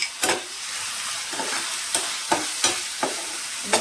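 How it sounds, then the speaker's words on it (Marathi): Chopped capsicum stir-fries with softened onions in a pan, a steady sizzle broken by repeated spatula scrapes and stirring knocks, close and alone. "कांदा बघा चांगला मऊसूस झाला यामध्ये घालायची आहे बारीक चिरलेली शिमला मिरची"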